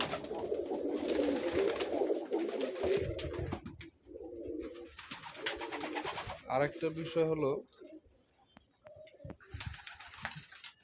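Sirazi pigeons in a backyard loft keep up low, throaty cooing beneath someone talking nearby, with a short flutter of wings and gaps between phrases.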